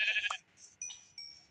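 A sheep in a video game lets out a few short bleats in quick succession, each a brief nasal cry with quiet gaps between, heard alone and fairly close.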